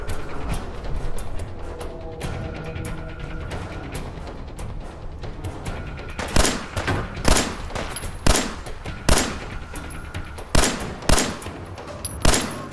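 Gunfire in the Fallout 4 video game: a rapid volley of shots, then a series of loud, sharp single shots spaced roughly a second apart, each trailing off with a short echo.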